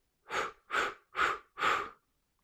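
Four slow, steady breaths drawn in through the nose during a guided energising meditation, each a soft airy rush lasting about a third of a second, close and fairly loud, with no talking.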